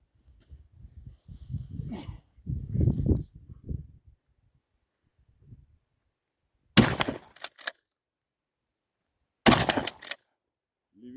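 Talking at first, then after a pause two sharp, loud rifle gunshots ring out a few seconds apart at a 35-metre range, each with a brief echoing tail.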